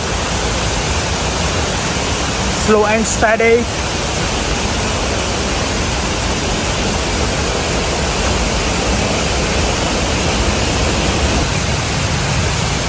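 Broadband rushing roar of a waterfall along a hiking trail at Air Terjun Lasir near Kenyir, Malaysia, steady and continuous throughout, with a brief spoken remark near the start.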